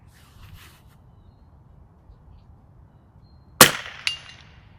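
An Anschutz 1827 biathlon rifle fires one sharp shot after a quiet stretch. Half a second later a small steel plate downrange answers with a faint metallic ring.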